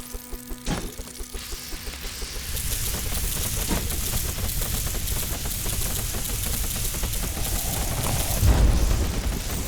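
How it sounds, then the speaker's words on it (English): Towers in the video game Emberward set off repeated explosions in a dense, continuous barrage of booms and crackles. A sharper, louder burst comes near the end. "Constantly causing those explosions. I think that's what that sound is."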